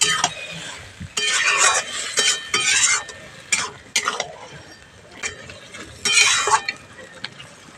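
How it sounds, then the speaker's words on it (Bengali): Mustard paste being stirred into Malabar spinach curry frying in a pan, heard as bursts of scraping and clinking spatula strokes against the pot between quieter sizzling gaps, close and fairly loud. "সর্ষে বাটাটা দিয়ে সাজের সময় খুব ভালো করে মিশিয়ে নিতে হবে"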